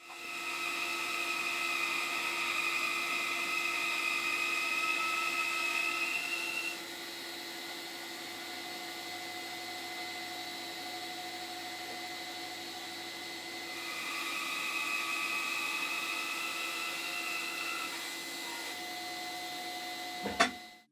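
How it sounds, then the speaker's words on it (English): Bandsaw cutting wood in a woodturning workshop, a steady motor whine with a high tonal hum that drops as the blade bites, holds lower, then rises again before ending abruptly, continuous and close. "First thing, let's get to the bandsaw."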